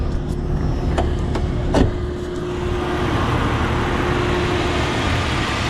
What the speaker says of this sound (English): So you guys can hear the engine.